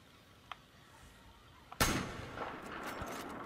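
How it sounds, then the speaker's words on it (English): Battlefield 4 gunfire during a campaign mission: a faint crack early, then a sharp loud shot followed by a sustained rumbling, echoing burst that trails on with scattered pops and no talk. "Why are they shooting at me?"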